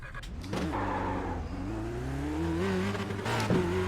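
Formula Renault 2.0 race car in the iRacing sim revs up steadily, its engine note climbing in pitch over a few seconds with a brief tire chirp near the end, loud and close with no talking.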